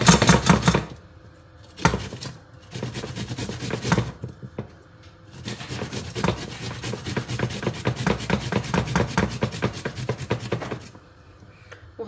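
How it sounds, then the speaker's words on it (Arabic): An onion is rubbed against a grater in a home kitchen, giving dense, rapid rasping strokes that run almost continuously, with a few short pauses and soft knocks between bursts. "انا خيتي كتعجبني فيها هادي البصيله كنحكها"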